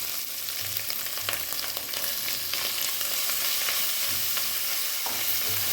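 Tomatoes frying in a pan with ginger-garlic paste for mushroom biryani, a steady close sizzle with occasional stirring scrapes throughout, no talking.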